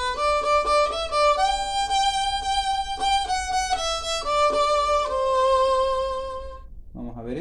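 A violin plays a melodic passage of the chamamé Kilómetro 11 in its high register, notes moving steadily with some held tones, then a short lower phrase at the end.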